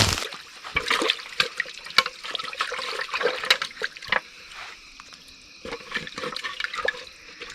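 Water of a deep, dark creek flows and splashes close by, with an irregular stream of trickling and sloshing bursts across the clip, fairly loud and with no voices.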